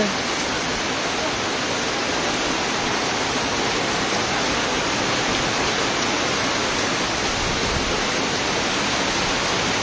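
Typhoon rain falls hard and continuously, a thick unbroken roar of drops close by lasting several seconds, with no clear speech on top.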